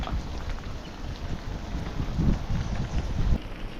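Steady broadband hiss of rain mixed with low rumbling wind noise while cycling, continuous throughout with no voices.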